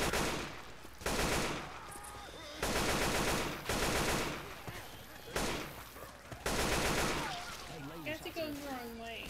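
Bursts of automatic gunfire in the video game Left 4 Dead 2, several loud sustained volleys separated by short pauses, with voices talking between and under the shooting.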